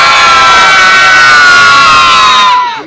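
A crowd of children at a Super Sunday sports party cheers and shouts a loud, sustained "yeah" for nearly three seconds, close and dense, then cuts off abruptly.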